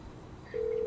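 A phone is being dialed in the video game GTA V: after a quiet moment, a single steady electronic tone sounds abruptly and holds to the end.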